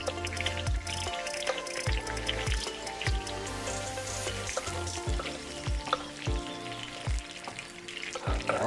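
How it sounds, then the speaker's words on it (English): Vegetables sauté in a hot pan for a seafood dish, steady close sizzling and frying with bursts of wet stirring and scraping at a regular rhythm, no talking. "we're just going to put it in there to saute. Just for it to get soft."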